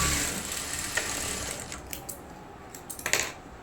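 Domestic sewing machine stitching a blouse back, a steady mechanical whir with faint ticking clicks of the mechanism, close and fairly quiet, no talking.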